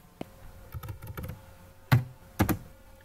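Keys clacking on a computer keyboard while typing into an MS Excel spreadsheet: scattered single presses, then a quick run of strokes and two sharper, louder clusters near the end, close and alone.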